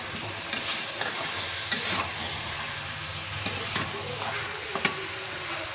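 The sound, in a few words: stir-frying potato and boiled jackfruit in spice masala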